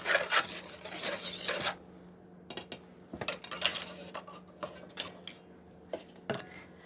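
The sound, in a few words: whisking flour, baking soda, salt and cornmeal in a bowl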